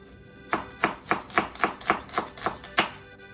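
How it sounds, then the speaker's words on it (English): Onions chopped for rigatoni all'amatriciana, about nine crisp knife strikes on a cutting board in a steady, even rhythm, close and clear with no talking. "we're going to start cutting up a little bit of onions"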